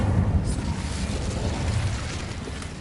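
Incendio fire spell cast in the video game Hogwarts Legacy, a loud, close roaring whoosh of flame with a broad rumbling burst that carries steadily throughout.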